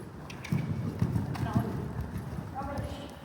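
A horse cantering during a jumping lesson, its rhythmic clip-clop hoofbeats fairly close and steady under a rider or instructor's talking.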